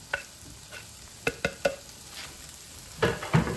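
Shrimp hitting a hot pan already sizzling with sprouts and onions: a steady soft frying hiss broken by a few sharp clatters and a louder splash of sizzle near the end, with no talking.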